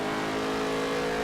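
A NASCAR race car engine revs hard and continuously in the NASCAR Heat 3 video game, a loud steady high-pitched drone filling the whole moment.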